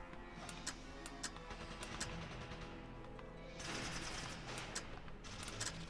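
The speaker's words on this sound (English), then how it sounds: "I'm going to make the shot anyway" Gunfire from the video game Valkyria Chronicles: rapid bursts of sharp shots in a battle, with a louder noisy stretch midway, faint overall.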